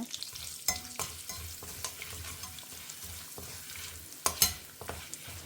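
Dried red chillies and asafoetida frying in hot oil for Tamil kattu saaru make a steady close sizzle, broken by several sharp crackles and a spoon stirring in the pan, with no talking.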